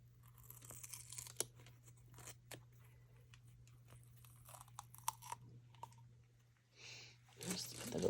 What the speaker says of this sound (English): Sorry for the crinkling sound.